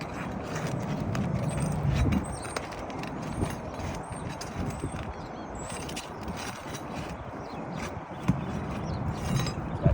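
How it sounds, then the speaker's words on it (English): Nails being pried out of a 3-tab asphalt roof shingle, with dense irregular scraping, knocking and creaking mechanical noises running steadily throughout at close range, with no talking. "So we're going to remove both rows of fasteners to get this 3-tab shingle out."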